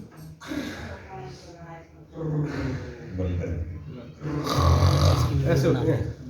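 Loud snoring from a children's picture story reading, several long rasping snores in a row, apparently voiced by the reader imitating a sleeper.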